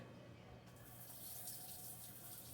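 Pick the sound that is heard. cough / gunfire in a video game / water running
water running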